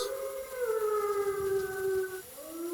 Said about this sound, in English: there's a wolf outside someplace.